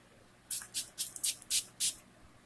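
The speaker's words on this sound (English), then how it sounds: "not the spray you're supposed to use" Six quick bursts of a trigger spray bottle, short hissing spritzes in an uneven rhythm, close and fairly soft against a quiet background.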